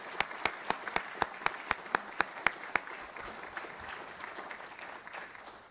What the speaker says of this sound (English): give an applause to Senator Leahy for all